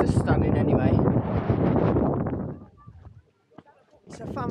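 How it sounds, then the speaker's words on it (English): Strong coastal wind buffets the microphone at Lizard Point in Cornwall, a loud continuous roar that drops away partway through before gusting back in, with a voice talking over it. "It's a little bit on the windy side at the moment"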